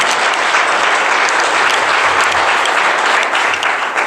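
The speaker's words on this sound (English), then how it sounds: "Please give me a big round of applause." Dense, sustained applause from a seated audience at a business presentation, loud and steady throughout with no pauses.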